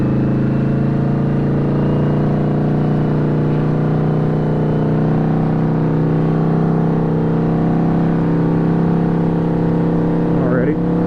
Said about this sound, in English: Bike starting to warm up a little bit.